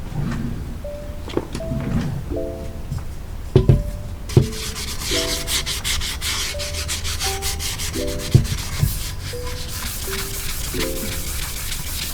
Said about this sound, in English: And I did already sand this once before, but just to make sure I get all the residue off of it